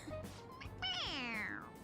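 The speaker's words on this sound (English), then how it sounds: "It meows when you press on its head." A stuffed toy cat in Persona 5 Royal gives a single drawn-out meow when pressed, sliding down in pitch, clear and close, with no talk.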